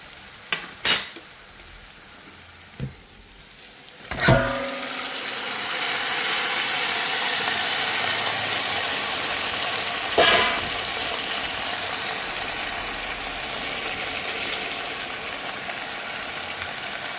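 Chicken pieces and golden-fried onions sizzle loudly in a pan for a chicken kulambu, a steady hiss with a few clanks of a stirring utensil near the start and one more midway.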